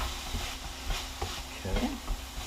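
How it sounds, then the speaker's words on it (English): Egg roll filling seasoned with soy sauce is stirred in a hot pan, with soft scraping strokes and a quiet sizzle in the background. "I'm going to mix that in."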